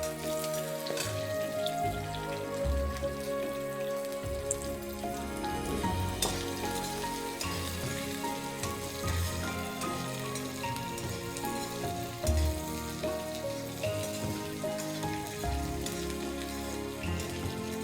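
Onions fry in hot oil with curry leaves and green chillies for a vegetable upma, a steady close crackling sizzle that carries on evenly throughout with no voices.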